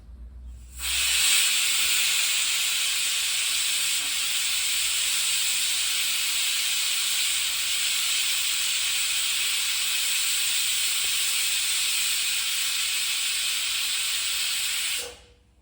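A kitchen pressure cooker releases steam in one loud, continuous hiss that starts abruptly, holds steady for about fourteen seconds, then cuts off.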